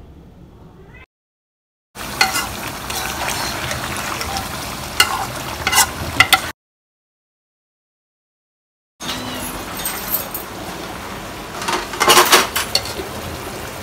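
Chillies fry in a pan with a bright crackling sizzle and a few clinks of utensils, heard in two bursts separated by abrupt silences.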